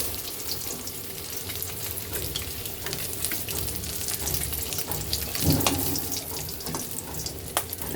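An egg frying in a pan, a steady close sizzle with scattered clicks and a brief scrape of a utensil, no talking.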